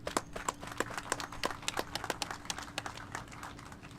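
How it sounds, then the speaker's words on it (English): A modest audience at a city COVID-19 testing event gives a round of applause, crisp individual claps in an uneven patter that thins out toward the end. "And they deserve a round of applause."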